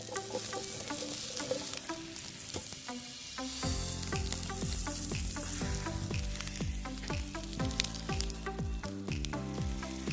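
Onions cooking in a pan over a camp stove, heard as a steady crackling sizzle up close with scattered utensil clicks and stirring scrapes, the frying growing fuller partway through.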